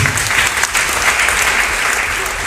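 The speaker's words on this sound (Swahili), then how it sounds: "Tupigie karamu makofi jamani" Applause from a church congregation during a Kikuyu-language praise and worship celebration, steady and dense clapping from a sizable crowd, fairly loud and close, lasting throughout without a break.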